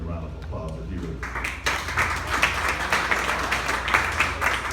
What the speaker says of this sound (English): Just give me a round of applause if you would.